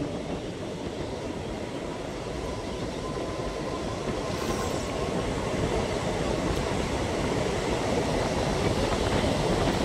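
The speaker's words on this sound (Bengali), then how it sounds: "আমাদের ট্রেন তার স্পিড তুলতে শুরু করেছে।" A MEMU train on the Azimganj–Kasimbazar line gathers speed, its heavy, continuous rumble and wheel clatter growing slightly louder over ten seconds, heard from inside the carriage with no one talking.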